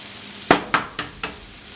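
Eggs are added to a hot skillet for a breakfast dish: four quick, sharp hits about a quarter second apart, each trailing off into a short hiss, with no voice.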